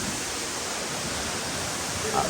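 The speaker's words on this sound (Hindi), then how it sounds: "Just look at it man, कितना बड़ा वाटरफॉल है, क्रेजी।" Jhari Waterfall in Chikmagalur, a large cascade, roars as a steady broadband rush that fills the whole clip without pause, close and loud, with no clear talk over it.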